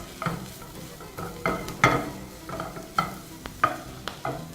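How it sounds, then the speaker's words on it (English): Sliced button mushrooms fry in a pan for beef stroganoff, stirred in repeated close scraping strokes over a low, continuous sizzle. "and then stir it some more"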